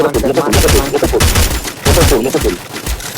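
Rapid bursts of gunfire ring out in a Free Fire tournament match, loud and dense with two clustered volleys, while players talk over the shooting.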